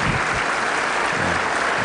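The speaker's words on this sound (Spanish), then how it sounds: "Ese aplauso es para el Ejército, General Duarte." An audience at a legislative ceremony applauds the army, a loud, dense burst of clapping running unbroken throughout, with no voices over it.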